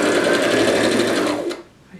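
A sewing machine stitching through paper runs loud and steady at close range, its motor whirring continuously before stopping abruptly near the end.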